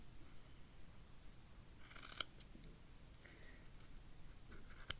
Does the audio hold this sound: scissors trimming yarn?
yes